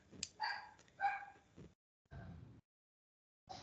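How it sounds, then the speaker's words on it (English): A dog barks several times, in short separate bursts with gaps between them, fairly faint and from a distance, with no talk over it. "Mine's gonna start barking soon."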